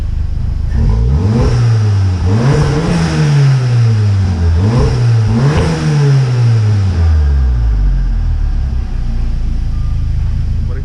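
A Volkswagen Golf R Mk7 with a Volkswagen Racing Cup Edition catback exhaust revs several times over a steady idle, each blip rising sharply and falling back, loud and close, with no talk.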